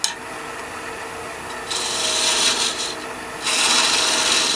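Multi-tool scraping and cutting a spinning wooden finial on a lathe, a close, steady abrasive rasp that steps up louder in two stages midway and near the end.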